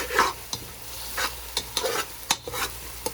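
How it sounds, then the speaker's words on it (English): Food sautés in a pan on a stovetop with a soft, close sizzle, broken by intermittent scraping and clinking as a spoon stirs it. "You can hear it sizzling."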